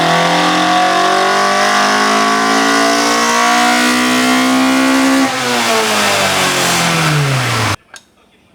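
Toyota AE86 Trueno engine revving hard to a raised rev limiter, a loud, close, climbing wail held near the top, then falling away before cutting off and leaving a brief quiet tail.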